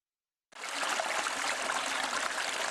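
Water of a half-frozen mountain stream on the first sub-zero winter morning, flowing and trickling steadily after half a second of silence, a continuous close wash of splashing with no voices.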